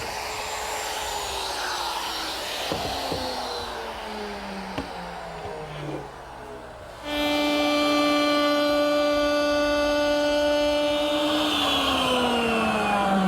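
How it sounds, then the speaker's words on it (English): A woodworking router with a 1/4-inch bit and collar cuts shelf-pin holes through a jig clamped to a pine side panel, a loud steady motor whine that rises in pitch as it spins up partway through. "The jig clamps to the side panel, and my router has a collar that fits into the jig's holes."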